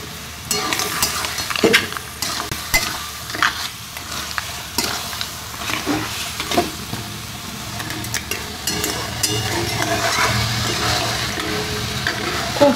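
Fried crabs are stirred in a pan for a spicy crab curry, giving loud continuous sizzling broken by repeated scraping, clattering stirs close by.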